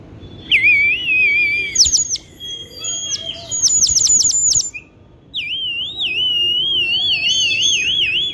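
A toy water bird whistle imitating a sparrow warbles and trills loudly, with bursts of rapid chirping whistles, a brief pause, then a long wavering bubbling warble, close and alone.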